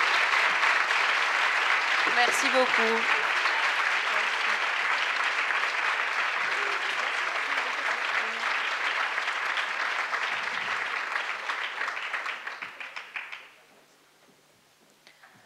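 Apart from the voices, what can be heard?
audience applause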